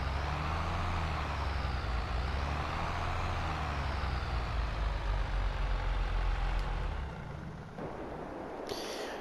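A tractor engine in Farming Simulator 22 runs at a steady low drone with a heavy rumble, close and constant, then drops a little quieter near the end.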